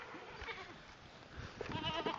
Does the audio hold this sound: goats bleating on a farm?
yes